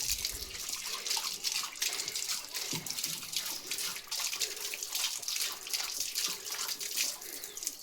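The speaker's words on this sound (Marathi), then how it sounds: "आता लिओला प्यायचे पाणी." Water runs steadily from a tap, filled for a German Shepherd to drink, with a continuous splashing hiss and faint drips, close by and with no talking.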